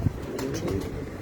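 Pigeons on a rooftop coo in a short, low, rounded burst, close and fairly soft over a steady background hum.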